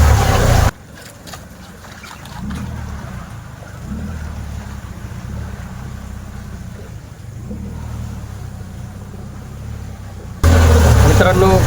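A hired boat motors along the Kerala backwaters, a steady low engine drone with water wash that runs for several seconds, bracketed by louder, closer noise at the start and end.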